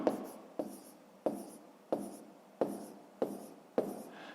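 Pen or chalk writing out a math problem, with seven evenly spaced, firm scratching strokes that each start sharply and trail off, close and clear with no talking.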